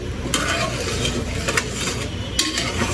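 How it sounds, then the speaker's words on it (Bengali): Water is added to browned chicken curry in a pan of hot oil, giving a steady close sizzle with a few sharper bursts and faint scraping as it settles. "জল দিয়ে দিলাম পরিমাণ মতো"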